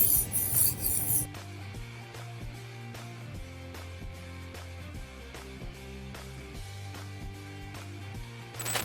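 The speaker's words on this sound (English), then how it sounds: "So this is the 1000 grit side, and I'll just keep on sharpening from this." A knife is stroked along the 1000 grit side of a whetstone in repeated even rasping passes, close and moderately quiet, over a low steady hum with no talk.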